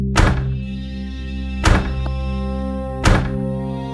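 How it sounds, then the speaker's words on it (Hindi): Three heavy, hollow knocks on a wooden door, evenly spaced about a second and a half apart, close and loud with quiet between. "तुमने आवाज सुनी? जैसे कोई दरवाजा खटखटा रहा हो।"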